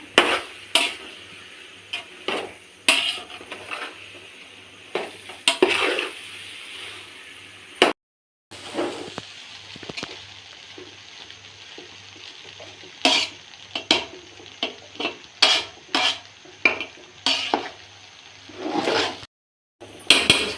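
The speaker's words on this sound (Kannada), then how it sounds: "ಇದನ್ನು ಮಿಕ್ಸ್ ಮಾಡ್ಕೊಳ್ಬೇಕು ಚೆನ್ನಾಗಿ" A spatula stirs and scrapes mushroom fried rice in a pan, giving sharp metallic clinks and scrapes in irregular bursts with brief pauses, close and clear.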